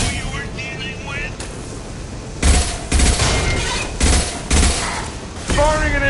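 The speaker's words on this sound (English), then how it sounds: "Firing an impact shot!" An impact shot fires in a sci-fi shooter video game, with several heavy booming blasts over a steady droning background and faint game voices.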